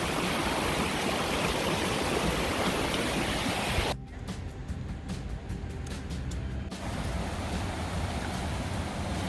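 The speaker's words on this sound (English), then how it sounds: "Rapids right here." River rapids beside the Appalachian Trail, a steady loud rush of flowing water that thins abruptly for a few seconds with faint ticking, then returns full.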